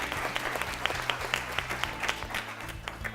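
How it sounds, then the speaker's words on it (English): Audience clapping at a national school quiz final, a moderate crowd whose individual hand claps stand out in a fairly rhythmic patter over a low background hum. "Let's clap for them, please."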